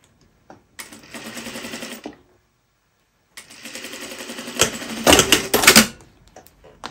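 A sewing machine stitches a seam on pants fabric in two runs, a fast, even mechanical whirr that stops, pauses in silence, then resumes and speeds up with louder clunks before slowing.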